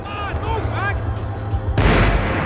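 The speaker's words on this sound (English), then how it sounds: "The bullets came from long range." Long-range gunfire in the action shooter Max Payne 3, a burst of distant shots ending in a loud crack near the close, with game sounds around it.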